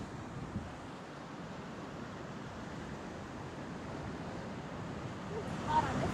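Ocean waves and wind off Antigua in rolling seas, a continuous broad wash of surf and gusting air with wind buffeting the microphone and a slight swell near the end.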